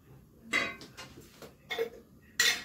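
A metal spoon clinks against a pot while ghee is spooned in, a few light clattering knocks spaced unevenly, close and fairly quiet.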